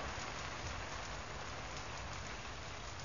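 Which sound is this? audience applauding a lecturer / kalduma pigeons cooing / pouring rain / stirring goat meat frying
pouring rain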